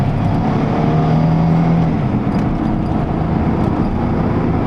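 Chevy S10 pickup engine held at full throttle, a steady loud droning roar with a brief tonal hum rising out of it, continuous and close with no talking.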